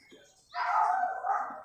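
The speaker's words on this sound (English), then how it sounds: "Means this is the dog, it is Ketu" A dog gives a single sustained bark or yelp, close and fairly loud, following a quiet moment.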